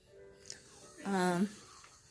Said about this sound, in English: if you heard snoring, that's one of my kids.